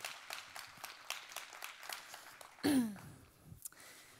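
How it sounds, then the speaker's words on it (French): An audience at an agile conference session claps for the organisers in a scattered, moderately quick patter. Near the end a short vocal whoop or call rises over the last few claps before they die away. "Oui, on peut les applaudir."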